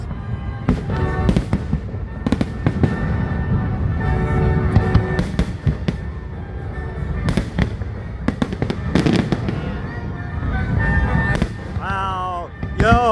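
Independence Day fireworks finale over Boston, a dense, loud barrage of booming bursts and crackling pops in rapid succession, with excited voices talking near the end.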